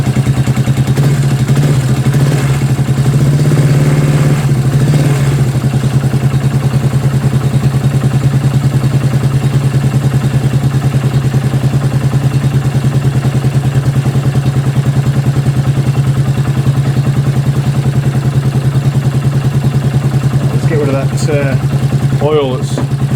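A farm motorbike engine runs steadily throughout, a loud continuous hum with a low drone, while a person talks over it near the start and end.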